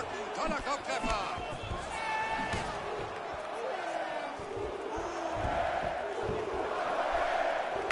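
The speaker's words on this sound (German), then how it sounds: "Das deutsche Publikum steht natürlich hier hinter Renan Barão. Da kommen die Anfeuerungsrufe." An arena crowd roars and chants in the UFC 2 fighting game during a UFC 190 bout, fans rallying behind Renan Barão, with a loud sustained swell of cheering and a voice talking over it.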